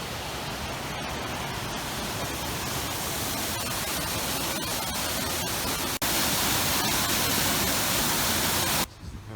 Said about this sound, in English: Moving closer to the waterfall now.